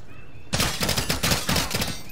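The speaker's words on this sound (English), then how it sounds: "I'm getting shot from every direction possible." A sudden, loud, sustained burst of automatic gunfire in a Call of Duty match, rapid shots packed tightly together after a brief quiet start.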